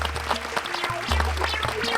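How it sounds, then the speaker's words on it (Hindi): Children clap at a magic show, a crowd of hands applauding in a steady patter, with a low musical drone sustained beneath the clapping. "बच्चों बजाओ जोर से ताली।"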